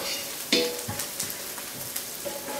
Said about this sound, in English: you start seeing my onions going a little bit brown now, which is good.